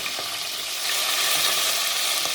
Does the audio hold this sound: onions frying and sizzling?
yes